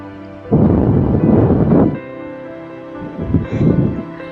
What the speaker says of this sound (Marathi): आता दोन पाच मिनिटात इतकी जोरदार पावसाची झुळूक आली ना